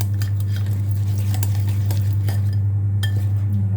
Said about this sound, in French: Mélangez comme ça jusqu'à ce que ça devienne lisse, jusqu'à ce que le chocolat est bien fondu avec le beurre